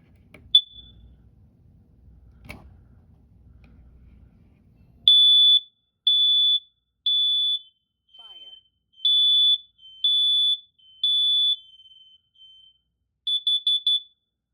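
A combination smoke and carbon monoxide detector sounds its test alarm: a couple of clicks and handling noises, then a run of loud, shrill, evenly spaced beeps ending in a rapid triple chirp.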